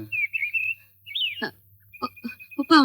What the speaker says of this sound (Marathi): चिमणी पाखर.